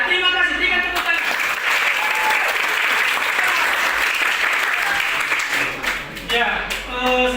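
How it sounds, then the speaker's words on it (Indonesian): Students in a classroom applaud together, a dense burst of clapping that holds steady for several seconds before tapering off, with a teacher's voice emerging near the end. "Berikan tepuk tangan."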